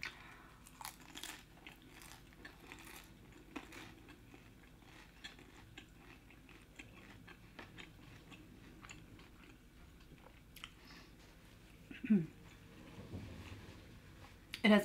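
Crisp, crunchy chewing and biting of a lumpia egg roll at close range, steady through the clip with a louder burst of crunches near the end.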